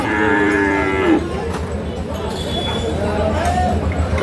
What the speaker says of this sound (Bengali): এই দেখছেন গরু দুটো